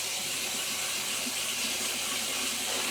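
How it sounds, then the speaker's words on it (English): Cold tap water rushes in a steady, loud, close hiss over cooked mince held in a pan or strainer to rinse off the oil, running without a break. "I just put some cold water on it and just give it a nice little drain"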